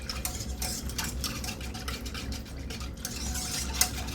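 A coffee mocha jelly mixture is stirred in a pot on a stove, with soft swishing and light utensil clicks against the metal in a steady, close rhythm.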